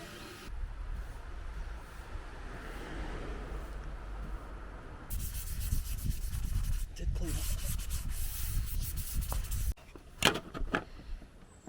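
Sandpaper of 220 grit rubbed by hand across the bodywork of a Fiat Ducato campervan, a steady close scraping and rasping that continues with shifting strokes, grows louder and rougher midway, then gives way to a few sharper knocks.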